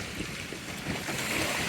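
Waves slosh and splash steadily against a small heavily loaded sailboat on a beam reach at sea, a continuous broadband wash with wind noise buffeting the microphone, close and fairly loud with no talking.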